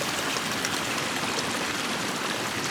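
A small summer stream runs full after heavy rain, a dense, even rush of water close by with no pauses and no voices.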